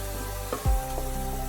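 Eggplant pieces drop into a pan of frying fenugreek greens with a soft thud, then steady sizzling continues close by.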